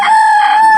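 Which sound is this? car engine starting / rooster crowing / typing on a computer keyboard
rooster crowing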